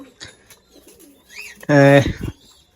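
Pigeons coo close by in a loft, one loud throaty coo standing out after softer bird murmurs and faint chirps, with a quiet, mostly still background.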